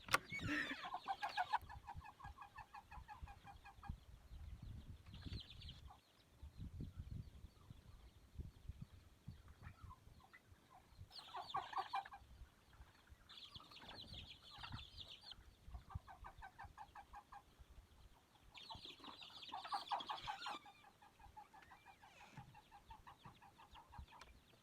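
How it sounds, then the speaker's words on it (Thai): Several turkeys give bursts of gobbling, clucking calls at close range, separated by short pauses over about twenty-five seconds, with no talking. "นี่ก็ไก่งวงนะครับ"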